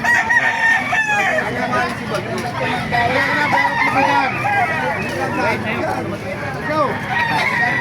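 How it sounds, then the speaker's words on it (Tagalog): Roosters crowing and clucking at a gamefowl market in Baliuag, Bulacan, several birds overlapping in a busy, steady din with crowd babble and people talking nearby. "Meron tayo pa mga manok dito mga master eh."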